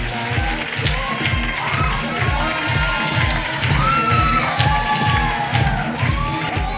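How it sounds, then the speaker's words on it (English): At a Mrs Gibraltar Classic pageant show, an audience cheers and whoops amid a rhythmic thumping beat, crowd noise sustained at moderate loudness throughout. "please give a big round of applause for Jacqueline Ribeiro, Mrs. Gibraltar Class"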